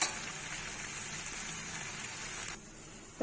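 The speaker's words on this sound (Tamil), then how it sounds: "நம்ம பெரட்டி விடணும்" Masala idli pieces sizzle and crackle steadily as they are stirred and fried in a pan, a continuous close hiss that drops away abruptly near the end.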